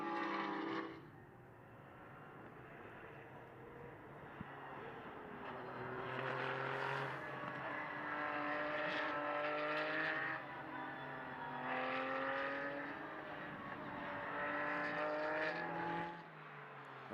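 Porsche 992 flat-six GT race cars running together in qualifying at Mugello, their engines blending into a loud, sustained multi-car drone with rising and falling revs as they pass in close formation.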